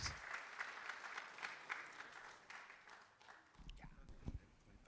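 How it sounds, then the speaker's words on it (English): Steady applause from a conference audience welcoming a speaker, a dense patter of many hands that fades out, followed by a few thuds and movement near the microphone. "Let's welcome him with a round of applause, please."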